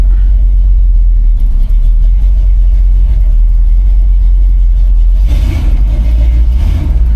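The 327 V8 of a 1964 Chevrolet C20 pickup rumbles loud and close, with revs climbing and a brief surge toward the end.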